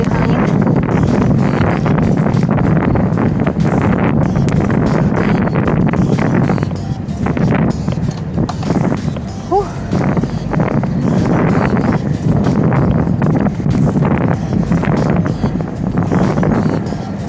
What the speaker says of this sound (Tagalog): Grabe hangin.